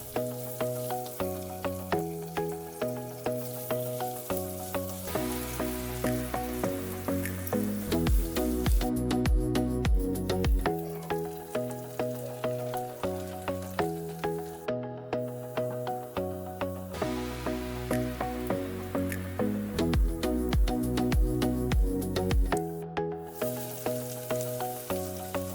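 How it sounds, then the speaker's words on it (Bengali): Chopped onion sizzles and fries in hot oil with ginger and bay leaf, a steady crackling hiss with soft stirring scrapes, close and continuous. "এরপর পেঁয়াজ কুচি দিয়ে নেড়ে চেড়ে ব্রাউন করে নিয়ে নিলাম"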